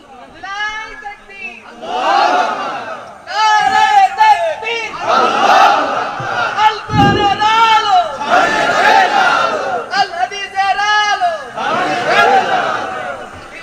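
A large crowd at an outdoor Islamic religious sermon gathering in Bangladesh shouts slogans in unison, in loud rhythmic call-and-response bursts that repeat across the whole stretch.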